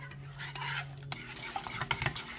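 A dishwashing liquid plant spray mixture being stirred in a container, with a scraping swirl that settles into scattered light clinks and knocks, close and fairly quiet, no voices.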